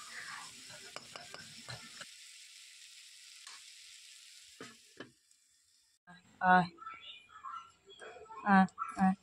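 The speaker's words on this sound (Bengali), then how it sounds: "আর বসিয়েছি একটু উচ্ছে ভাজা।" Bitter gourd slices frying in a pan for a lunch dish give a soft, steady sizzle that mostly sits under a voice, with a short quieter stretch before talking resumes.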